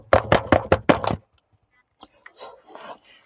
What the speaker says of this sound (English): I'm going to attempt to knock off all that extra powder.